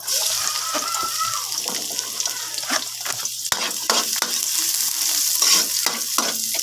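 Garlic sautés in a pan with an even, loud sizzle, broken by a string of clattering stirs and scrapes from a utensil.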